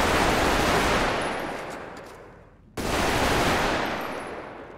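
A fast-firing gun in the video game GTA lets off a sustained, loud rapid burst that fades, cuts out briefly, then resumes at full volume.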